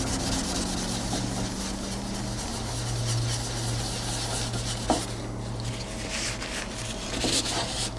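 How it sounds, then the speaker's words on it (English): Tissue rubs over beeswax-polished wood in a steady, soft, close-up scrubbing that continues evenly throughout, with a low background hum and one small knock partway through. "we're going to give them all a little rub with the tissue to get rid of the excess"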